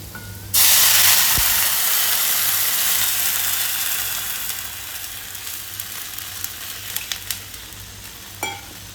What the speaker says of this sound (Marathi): आणि लगेच पाणी ओतायचं आपल्याला